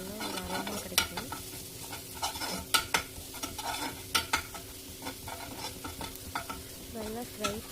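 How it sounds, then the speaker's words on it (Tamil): Ginger garlic paste roasts in hot oil for a beef liver fry, a steady close sizzle broken by repeated scraping stirs of a utensil against the pan. "ஆட் பண்ணி எண்ணெயில் ஒரு 2 to 3 minutes நல்லா ரோஸ்ட் பண்ணிங்கன்னா அந்த பச்சை வாசனை போய் உங்களுக்கு நல்லா ஒரு அரோமா கிடைக்கும்"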